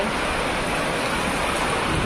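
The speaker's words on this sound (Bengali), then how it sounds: "কত বৃষ্টি" Heavy rain falls steadily on a rural village yard, a dense, loud, continuous wash of noise with no pauses and no voices.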